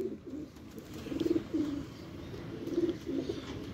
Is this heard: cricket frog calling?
no